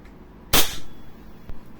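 A single sharp shot from a WE Hicapa Dragon 7.0 airsoft pistol, a loud close crack with a short tail, then a faint click a moment later.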